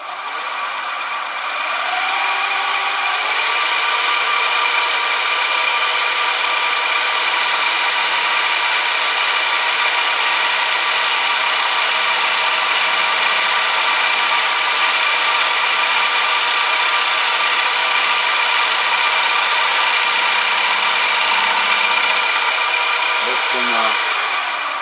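A lathe cutting plastic at raised spindle speed gives a loud, steady whine with a constant drone and high tones that hold for the whole stretch, with no speech.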